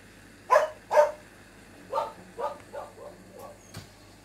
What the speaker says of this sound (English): they are finding things to bark at